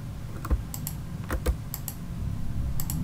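Keys are pressed on a computer keyboard while laying out an invitation in CorelDRAW X7, a few sparse, close clicks and taps over a steady background hiss, with no talk.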